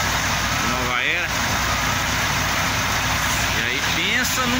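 A queue of trucks idles on the BR-381 highway near Nova Era, a low steady engine rumble filling the background while someone talks over it, with brief passing vehicle whooshes.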